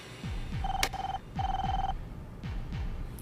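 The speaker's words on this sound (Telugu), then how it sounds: "రింగ్ అవుతుంది." A phone rings in repeated electronic trilling bursts, three rings with short pauses between, over a low rumbling background; no one speaks.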